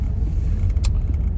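Steady low engine rumble from inside a moving car, continuous and fairly loud throughout, with a faint brief tick partway through.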